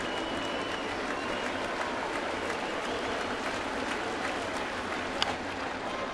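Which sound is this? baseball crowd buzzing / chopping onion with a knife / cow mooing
baseball crowd buzzing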